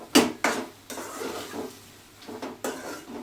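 Cumin and other ingredients mixed and pounded in a stone mortar, giving a few sharp knocks and scraping grinds with pauses between them, close up and without talk.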